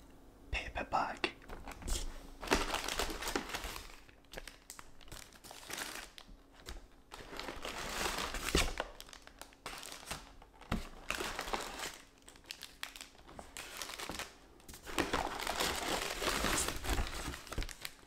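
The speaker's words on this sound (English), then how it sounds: "it's really hard when you've got this crinkly paper bag." A crinkly paper bag rustles and crumples in repeated bursts, close and fairly loud, with soft whispering in between, as Greggs fast food items are taken out.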